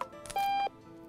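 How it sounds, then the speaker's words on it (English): Alarm clock in the Octodad video game, a faint electronic beep with one sustained tone among short bleeps. "Oh God, that alarm is annoying."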